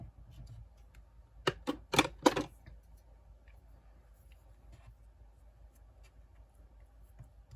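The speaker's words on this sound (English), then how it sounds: "Snip this off." Scissors snipping through fabric for a steampunk lapbook hinge: four quick, sharp cuts clustered together, close and crisp over a quiet room.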